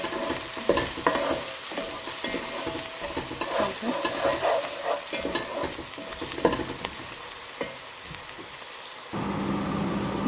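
Onions, ginger-garlic paste and chopped mint leaves sizzle steadily in hot oil for an Indian lamb curry while a spoon stirs and scrapes the pan in irregular clatters; close and continuous, with no talking.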